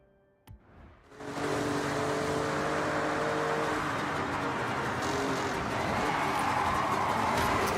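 BMW in a Japanese racing video game: after a short click and brief quiet, the engine roars up to a loud, sustained high-revving drone that holds steady and slightly rises, no voices.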